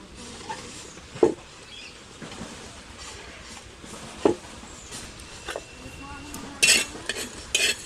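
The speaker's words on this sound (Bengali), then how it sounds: "এবার এই সবকটা গোটা মশলা বন্ধুরা ভালো করে ভেজে নেব" Whole spices, cardamom, cumin, coriander and peppercorns, fried in a pan, with a faint low sizzle under sparse, separate clinks and scrapes of a stirring utensil against the metal.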